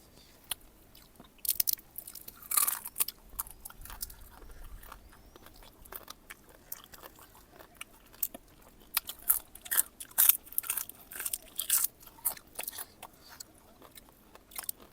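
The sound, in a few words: crunchy crab being chewed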